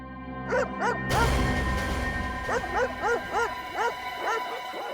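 Dogs barking outdoors in the background of a crime drama scene, a couple of short yips followed by a run of repeated, moderately loud barks and bow-wows at an uneven pace, with no talking.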